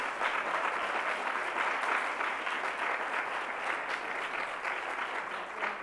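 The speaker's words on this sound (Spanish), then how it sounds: "Un fuerte aplauso para él, que siempre colabora." Dense, steady applause from a gala audience at a Christmas nativity scene and tree contest awards ceremony, unbroken hand clapping at an even, fairly moderate level for about six seconds with no voices over it.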